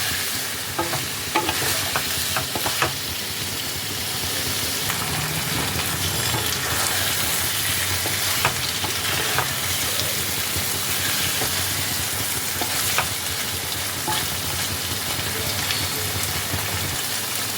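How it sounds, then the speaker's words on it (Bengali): Paneer cubes fry in hot oil in a kadai, a continuous dense sizzle with frequent scraping stirs and clinks, steady and close throughout with no talking. "পনিরগুলোকে এবার বেশ ভালোভাবে ফ্রাই করে নিতে হবে"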